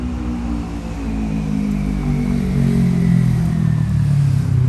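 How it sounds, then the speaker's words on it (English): A loud car engine on Hollywood Boulevard, a steady low rumble that swells and rises in pitch as it revs, close by and without talk. "Maybe not big engine, but loud engine."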